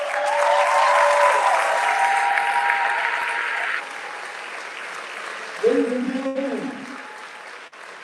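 Steady crowd applause fills a sports awards ceremony honoring the Coach of the Year, loud at first and then softer, with an announcer's voice speaking over it partway through.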